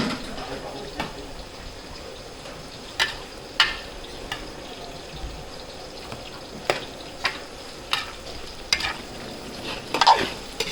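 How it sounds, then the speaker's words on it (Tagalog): Garlic and onion sautéing in a pan for a catering service cook, a steady soft sizzle under repeated scraping and clacking stirs of a utensil, close and moderately loud. "papulayin lang natin bawang sibuyas"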